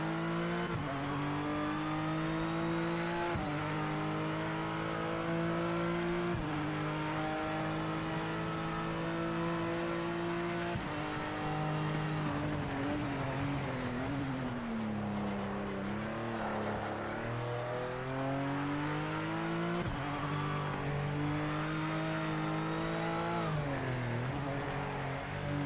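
Race car engine in the Project Motor Racing video game revving steadily through the gears, with repeated rising pitch sweeps and shifts, a continuous strong drone and occasional faint tire squeal.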